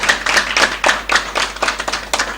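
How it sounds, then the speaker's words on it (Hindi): At a prize and memento ceremony, a few people clap close by in a quick, uneven rhythm. The sharp individual claps stand out, with only a handful of hands joining in and no talking. "जरा तालियां भी बजती रहनी चाहिए।"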